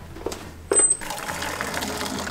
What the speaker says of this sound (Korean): 끓는 물을 바로 부어버리지.